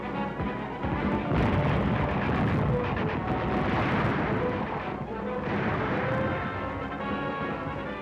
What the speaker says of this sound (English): we were pinned down by machine gun fire and mortars